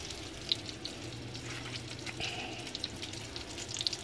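Banana French toast soaked in egg fries in a pan with a soft, quiet sizzle, broken by a few small crackles and pops. No one speaks.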